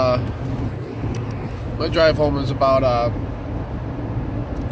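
Inside a car driving on the road, a low, steady rumble of engine and tire noise carries underneath someone talking close by.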